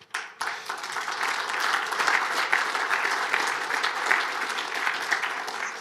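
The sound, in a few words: audience applause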